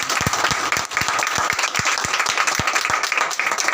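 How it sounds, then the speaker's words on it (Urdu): Church congregation clapping hands in a dense, continuous burst, with some louder rhythmic claps standing out near the front, loud and sustained throughout. "خدا کے کلام کے لیے تالیاں بجا"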